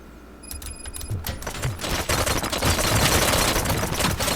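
Gunfire fills a Robocop: Rogue City game scene, a dense, loud fusillade of rapid shots building from sparse cracks over an electronic tone into continuous automatic fire.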